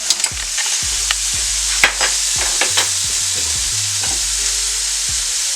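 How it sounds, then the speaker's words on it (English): Vegetables sauté in a pan with a steady bright sizzle and hiss, broken by occasional clinks and scrapes of stirring, close and alone. "We got our veggies going over here."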